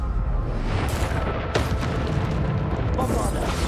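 Bombarda spell explosions in Hogwarts Legacy, booming blasts and bursts over a dense, loud game soundscape of continuous rumble and effects.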